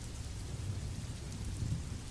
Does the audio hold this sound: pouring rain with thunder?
yes